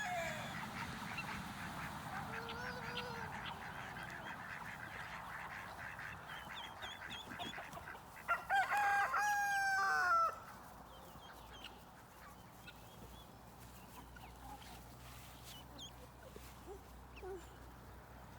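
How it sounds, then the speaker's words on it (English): Ducks quack and call at a distance outdoors while being chased around, with a brief louder burst of honking partway through and quiet open-air ambience otherwise. "chasing those ducks around. He loves his duckies."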